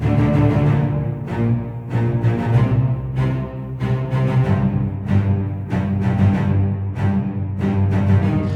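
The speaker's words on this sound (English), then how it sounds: "we have this kind of marching sequence in the low strings here" Low strings in an orchestral piece drive a marching figure in a steady, rhythmic pulse. The sound is full and loud with sustained harmonies above and regular accented beats, and no one talks.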